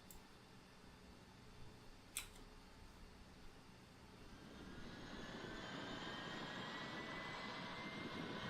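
A Boeing 777-300ER jet engine in X-Plane 11 hums faintly, then rises into a broader, louder roar about halfway through as it spools up, with two sharp clicks early on.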